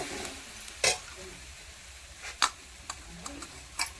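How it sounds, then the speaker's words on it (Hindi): French beans frying in a tomato chutney seasoned with turmeric give a steady close sizzle, broken by several sharp scrapes of a spoon stirring the pan, with no talking. "देखिए अच्छा से भून लिए हैं फ्रसबीन"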